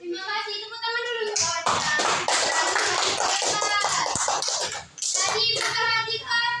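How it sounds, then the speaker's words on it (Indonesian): A classroom of children clap their hands together in a dense, lively burst lasting a few seconds, with young voices chattering before and after. "Terima kasih, tepuk tangan dulu."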